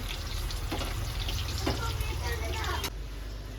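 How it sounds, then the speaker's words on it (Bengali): Potatoes fry in hot oil in a home kitchen, giving a steady, fairly quiet sizzle with small crackles throughout. "আলু ভাজা হয়ে গেছে আলুগুলো তুলে নেবো এবার"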